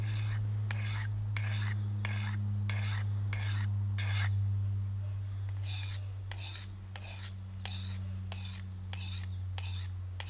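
An abused D2 steel knife rasps across the finer side of a whetstone in steady back-and-forth strokes, about a dozen even passes with a brief pause midway, close and clear over a low electrical hum.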